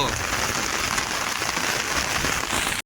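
Dense, even rain pours down close by over a flooded village, a continuous broadband hiss that cuts off abruptly at the end.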